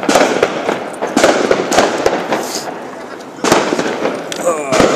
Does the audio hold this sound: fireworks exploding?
yes